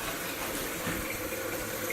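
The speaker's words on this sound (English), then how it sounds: "so the hot water's going" Hot water runs steadily from a sink tap, a continuous soft gushing hiss that stays even and fairly quiet for the full two seconds with no voices.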